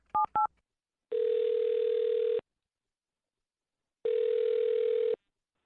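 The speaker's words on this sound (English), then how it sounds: "dial this phone number right now and see if we can get him on the phone" Telephone dialing before a radio morning-show call: two quick keypad tones, then two long steady ringback tones separated by silence, clean and close with no talk.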